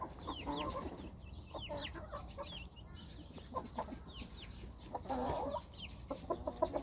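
A Chiang Mai bloodline rooster clucks in short bursts at close range, with other bird calls scattered around it on a farm.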